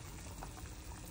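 Pork broth for lomi bubbles at a steady, quiet boil in a cooking pot, a dense soft bubbling heard briefly and alone.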